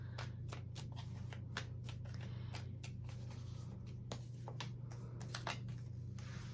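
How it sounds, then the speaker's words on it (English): Tarot cards are shuffled repeatedly in quick riffling bursts, close and crisp, over a steady low hum. "I'm going to do a couple more shuffles."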